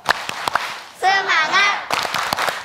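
A studio group on an Indonesian televised Quran-memorisation talent show claps in quick rhythmic bursts at the start and end, with a sung, chanted voice carrying the middle and shouted voices mixed in.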